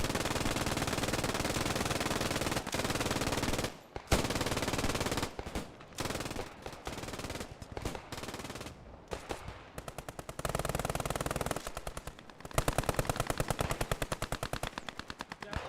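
Machine-gun fire rattles in the Post Scriptum video game, with long sustained bursts broken up by shorter choppy volleys and brief pauses, loud and continuous with no talking.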